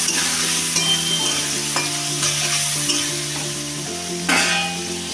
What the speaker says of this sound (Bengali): তাড়াতাড়ি যাতে আলুটা একটু ভাজা হয়ে যায়